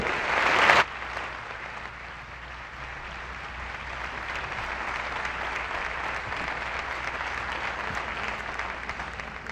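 An audience at the 15th-anniversary ceremony of Mexico's National Human Rights Commission (CNDH) applauds its staff, a sustained, dense roar of clapping from a large crowd that swells after a sharp loud opening burst.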